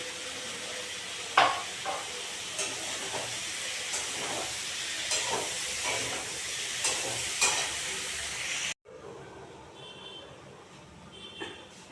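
Potatoes and taro frying in a pan, a continuous loud sizzle with intermittent stirring scrapes and clicks, then the hiss drops abruptly to a quieter bubbling simmer near the end as water goes in.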